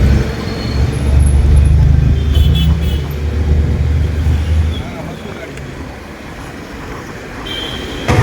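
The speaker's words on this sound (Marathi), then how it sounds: "इतक्या दूरपर्यंत ट्रॅफिक जाम आहे बघा. किती गाड्या आहेत इथं" Vehicles stand jammed on a busy Pune road, with a dense, loud rumble of engines and traffic noise that eases slightly toward the end.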